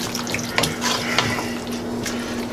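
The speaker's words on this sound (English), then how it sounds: "Let me give the sauce a stir." Marinara sauce for meatballs is stirred in a pot, a brief close wet swishing and bubbling with a couple of soft utensil knocks over a steady low hum.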